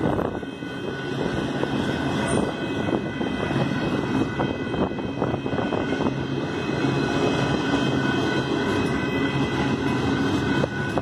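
Union Pacific freight locomotive 8097 rolls through a rural crossing in Saint Elmo, Illinois. A loud, continuous rumble and clatter of wheels and cars holds steady throughout as the long train passes close by.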